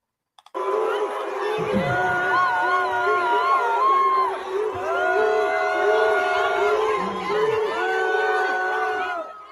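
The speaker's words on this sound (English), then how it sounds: "Ilhan Umar gets booed" A large crowd at an Ilhan Omar appearance boos loudly and continuously, a sustained mass of drawn-out voices and jeers swelling and holding for several seconds.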